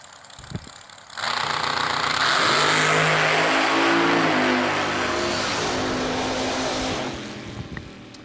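A supercharged blower dragster launches and accelerates down the drag strip at a New Year Nationals box eliminator race, a sudden roaring engine blast that holds loud for about six seconds, then fades as the car runs away into the distance.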